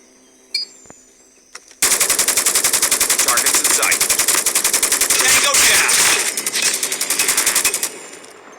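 Rapid automatic gunfire from Call of Duty Mobile, a long sustained burst of several seconds following a couple of isolated shots, loud and close with short pauses toward the end.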